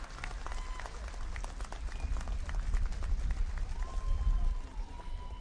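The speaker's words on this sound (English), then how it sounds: "I request everybody to kindly clap." A crowd claps at an outdoor political public meeting in Shillong, Meghalaya, for a gift presentation to a Congress leader: steady, continuous clapping with a low rumble underneath and faint tones drifting through.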